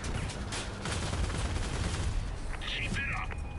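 Vehicle-combat gunfire in Crossout, a steady wash of rapid distant shots and machine-gun rattle under continuous battle noise, with a few brighter mechanical tones near the end and no clear talk.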